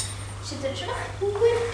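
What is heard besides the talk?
cutlery being set on a table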